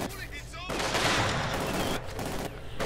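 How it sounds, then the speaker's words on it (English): Heavy mortar fire in the Company of Heroes 2 strategy game, a dense, loud rumble of blasts and battle noise that swells and then eases over a few seconds. "Heavy mortar firing away"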